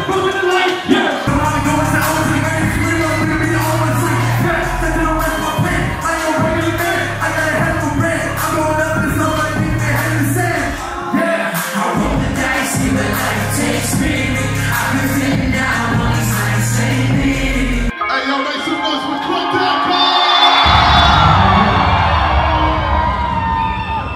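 A concert crowd chanting a song name in loud, rhythmic unison, with a heavy thumping beat underneath and a swell of cheering and shouting near the end.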